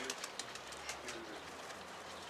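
Pigeons coo faintly in low soft tones amid a quiet outdoor rustle with scattered brief clicks and noises.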